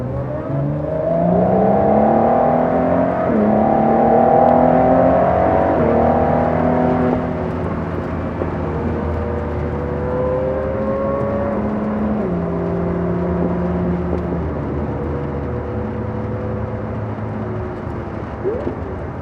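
Ford GT with EcoBoost engine accelerating hard in seventh gear, a loud, steady engine drone rising in pitch through a long pull, easing slightly as revs change, with no talk over it.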